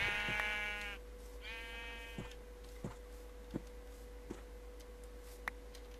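Minecraft sheep bleat twice in quick succession at the start. Sparse, evenly spaced ticking clicks follow over a constant low hum.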